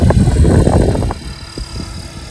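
Gusty wind buffets the microphone during an RC helicopter flight in 24-28 winds with a Blade Fusion 360 Smart, a heavy low rumble for about a second and then easing to softer, intermittent gusts.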